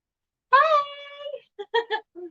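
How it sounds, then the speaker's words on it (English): A cat gives one long, drawn-out meow close by, then people talk in short bursts right after. "cat's looking at us."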